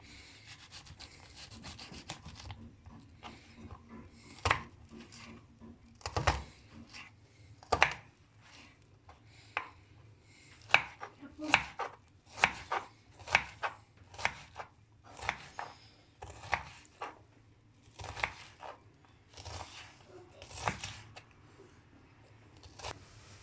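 Repeated knife chops through an onion on a cutting board, irregular but steady, close and fairly crisp, with no talking.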